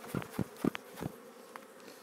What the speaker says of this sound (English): Again, I'll shake the bees off this.